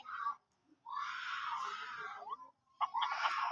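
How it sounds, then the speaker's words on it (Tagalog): A child screams in long, shrill bursts with short pauses between, loud and close, with faint background noise. "Ang ingay ng bata."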